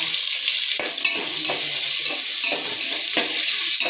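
Onions and green chillies frying in oil, a loud dense sizzle with intermittent stirring scrapes against the pan, close up and with no talk.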